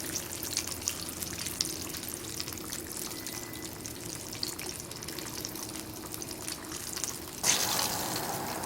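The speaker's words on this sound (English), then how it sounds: "I got oil in the pan, we got it hot, we've tossed in the first Spam steak" Spam steak frying in hot oil in a pan at a camp cooking setup, a steady close sizzle and crackle running throughout that swells a little louder near the end.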